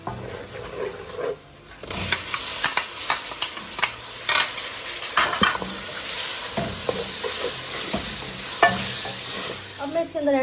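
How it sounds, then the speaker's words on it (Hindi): Masala of ginger-garlic paste, turmeric, chilli, coriander powder and garam masala sizzling in a pan, with frequent scraping and clacking of a spoon as it is stirred close up, no voices. "अब हम इसको तकरीबन 3 से 4 मिनट भूनेंगे।"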